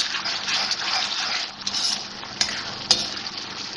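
Ginger garlic paste frying in a pan, a loud, bright, hissing sizzle near at hand with a couple of sharp utensil clinks against the pan toward the end, no talking.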